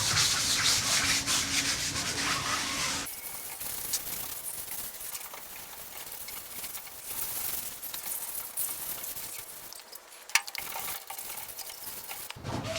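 Primer on a 1957 VW Beetle body being sanded, loud rasping strokes at first, then softer continuous rubbing with occasional knocks, close and with no talk.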